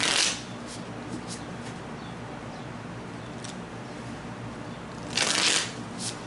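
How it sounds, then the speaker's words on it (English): Cards riffle briefly at the start and again near the end, with soft handling noise and a steady hiss between them. "Couple more shuffles."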